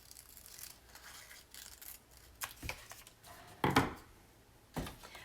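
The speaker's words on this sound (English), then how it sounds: "let's cut this part." Scissors cutting paper for a handmade journal page, a few crisp, separate snips spread across a quiet stretch with faint rustling between them.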